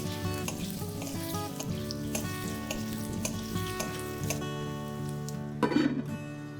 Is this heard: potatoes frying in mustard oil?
yes